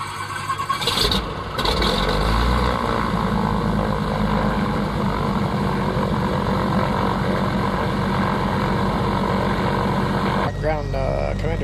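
A Lycoming engine on a Commander 114B aircraft starts and settles into a steady idle, a loud droning hum that runs nearly the whole time, with a voice briefly heard over it.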